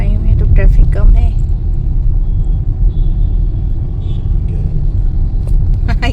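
Steady morning road traffic on a city street in Dehradun, a continuous low rumble of passing cars and engines that stays loud and unbroken throughout, with a few brief higher sounds on top.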